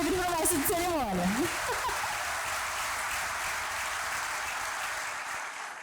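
Applause for the master of ceremonies at a community event, sustained broadband clapping filling the clip, with a speaking voice over it in the first two seconds before the clapping carries on alone and tapers slightly.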